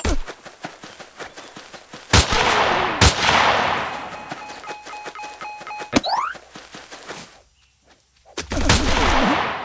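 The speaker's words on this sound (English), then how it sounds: "Machine gun." Gunfire from a machine gun in a shooter video game demo, loud sharp bursts and single cracks spread across the clip with brief quiet gaps and clinking, electronic-sounding effects between shots.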